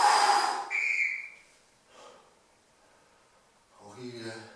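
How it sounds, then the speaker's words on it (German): A workout whistle blows sharply at the end of a Tabata rest interval, two short piercing blasts at the start followed by a faint trailing tone, while a trainer's voice comes through. "und wenn es pfeift, hochgehen"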